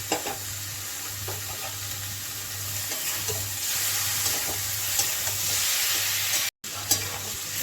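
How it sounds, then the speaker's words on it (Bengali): Boiled, turmeric-cooked mixed five-lentil dal tipped into a pan of frying spices for a Bengali dal with broccoli, giving a steady close sizzle and spluttering with scraping stirring strokes, continuous and alone, broken by a brief gap near the end. "এখন এর মধ্যে দিয়ে দিচ্ছি আমি এটা পাঁচ মিশানোর ডাল, হলুদ দিয়ে আমি ফুটিয়ে রেখেছিলাম, ওই ডালটা আমি দিয়ে দিলাম।"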